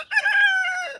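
A rooster gives a single loud, close crow lasting about a second, with a bright harmonic tone that drops slightly toward the end.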